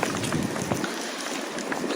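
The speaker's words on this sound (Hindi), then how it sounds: "हवा चल रही है, अच्छी है ठंडी हवा" Cool morning wind blowing outdoors during a walk, a steady close buffeting rush against the microphone with broadband noise throughout, no voices.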